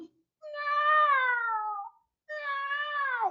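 Two drawn-out, high, wailing cries imitating a child's cat-like cry caused by a vocal cord defect, each bending slightly downward in pitch, separated by a short pause.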